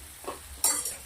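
Spiced mixture sautéing in a pan for butter garlic palak paneer: a short stir, then a sharp sizzling burst that hisses briefly and fades, close and alone.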